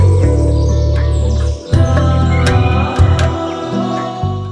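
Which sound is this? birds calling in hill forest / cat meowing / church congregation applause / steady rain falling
birds calling in hill forest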